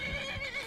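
A horse whinnies briefly in a vampire-modded video game, a short, close, clear neigh heard alone.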